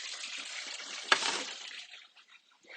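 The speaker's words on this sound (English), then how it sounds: "I run it under hot water and wipe it off and then slice." Hot water runs from a kitchen tap over a large knife used to slice cheesecake, a soft steady stream with a sharp clink partway through before it fades toward quiet.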